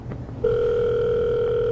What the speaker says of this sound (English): You can see the phone ringing.